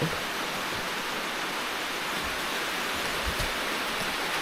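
Rain pours in a dense, continuous hiss that fills the whole clip, loud and steady with a few faint low thuds underneath.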